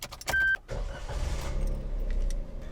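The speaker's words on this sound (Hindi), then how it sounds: "मैं गाड़ी स्टार्ट करता हूँ इसको।" A Suzuki Alto's starter cranks briefly and loudly, then the engine catches and settles into a steady low idle rumble, heard close up.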